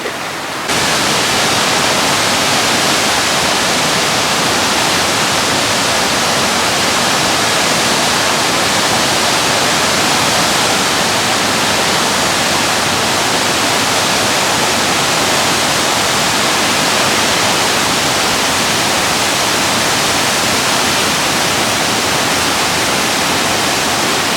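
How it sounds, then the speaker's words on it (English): A waterfall roars as a constant, loud, broadband rush, with wind blowing against the microphone, steady from start to finish after a short quieter opening. "I'm standing in front of a waterfall. The wind is blowing,"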